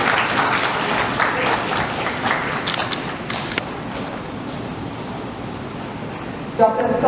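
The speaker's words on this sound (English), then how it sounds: "A big round of applause for Dr." An audience at a doctors' health awards event applauds, louder at first and then thinning to a softer, sustained patter, with a brief burst of voice near the end.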